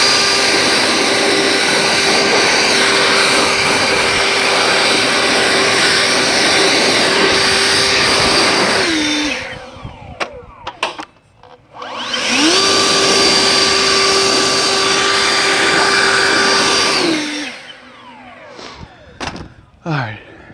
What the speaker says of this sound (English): this is my new awesome cordless 56-volt Ego leaf blower